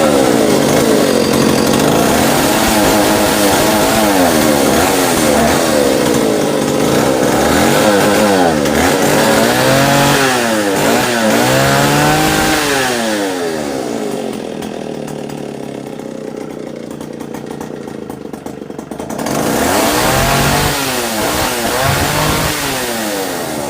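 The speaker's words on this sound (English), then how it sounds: "we have a vintage stihl model S10 chainsaw" A vintage Stihl S10 chainsaw with a 16-inch bar runs loud and close, two-stroke engine revving up and down in repeated surges, easing to a lower idle briefly before revving again.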